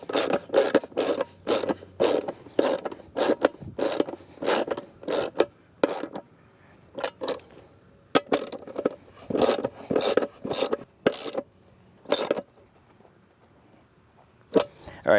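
Fittings on a K-line irrigation pod sprinkler head tightened during assembly: rhythmic bursts of close ratcheting and rasping, alternating back and forth in short groups separated by brief pauses.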